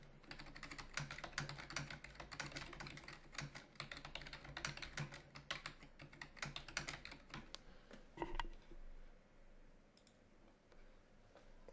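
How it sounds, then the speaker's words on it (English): Fingers type steadily on a computer keyboard in an office, with soft, quick key clicks in an irregular run that thin out after a couple of louder taps near the end. "you might type on something like"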